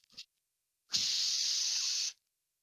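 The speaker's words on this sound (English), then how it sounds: "It's the cooking spray." A single steady hiss of cooking spray from a can lasts about a second after a brief faint rustle, close and fairly quiet with no talk over it.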